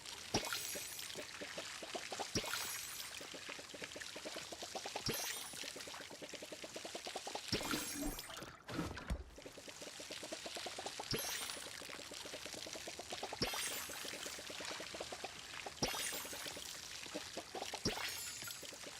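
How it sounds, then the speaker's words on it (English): A watering can pours water onto trees in the video game Palia in repeated steady streams, each splashing pour lasting a few seconds, with a brief break partway through. "I'm doing my favorite hobby I do in Paleo, which is water trees."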